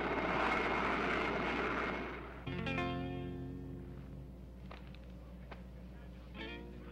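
A propeller airplane's engine drone approaching, a steady harmonic hum that enters suddenly after a noisy start and holds moderately loud, with brief higher tones breaking in.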